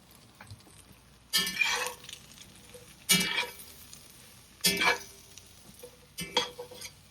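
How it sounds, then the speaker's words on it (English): Eggplant fries in a pan as four separate bursts of crackling sizzle and stirring, each a second or so long with quiet pauses between, close and moderately loud. "we add in our eggplant because eggplant needs a little bit of time to cook"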